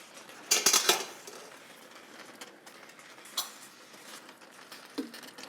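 Cooked thin spaghetti tossed through sauce in a pan, with a burst of clattering metal-on-pan scrapes and clinks early, then scattered softer stirring taps and knocks.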